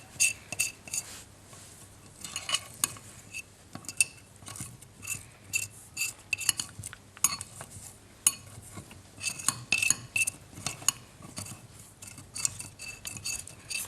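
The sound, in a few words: stirring a water and cornstarch mixture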